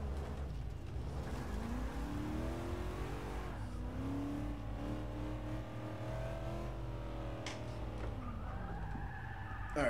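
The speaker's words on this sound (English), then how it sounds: "We're just holding the e-brake." A Commodore VL car in Forza 6 skids with the e-brake held, tyre squeal sweeping over a steady engine drone, continuous and fairly loud with no talk over it.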